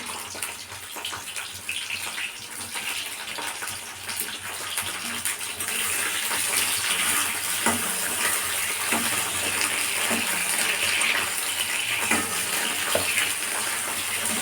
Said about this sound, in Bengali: তেলটা গরম হয়ে গেছে এবার আমি মাছগুলো দিয়ে দেব সব মাছগুলোই একবারে দিয়ে দেবো